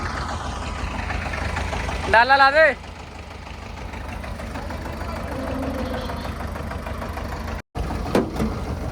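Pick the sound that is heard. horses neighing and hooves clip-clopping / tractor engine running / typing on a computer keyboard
tractor engine running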